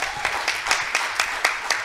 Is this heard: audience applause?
yes